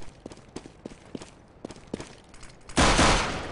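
Gunfire in a Counter-Strike match: a string of short, sharp shots spaced unevenly through the first part, then a sustained loud burst of firing and noise at the end, with no talk.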